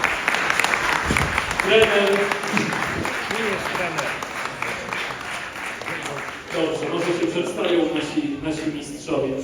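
Applause breaks out for the guardian of a Polish championship-winning football team, a priest, steady clapping heard beneath and between someone speaking over it.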